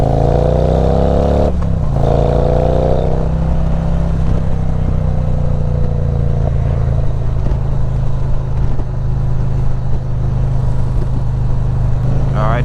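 A Harley-Davidson motorcycle with Santoro bag guards riding over bumpy road, a loud continuous engine drone with rising and falling pitch, wind rush and occasional clatter.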